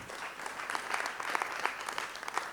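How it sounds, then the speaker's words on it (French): Fairly faint applause from a lecture audience after a café talk on plurilingualism, an even scatter of many hands clapping with a few sharper claps standing out, lasting a couple of seconds. "vous avez le droit d'applaudir"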